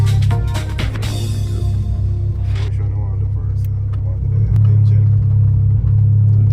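A built Honda Civic engine cranks and catches, settling into a loud, steady idling rumble close by; the car has a crank position sensor fault code.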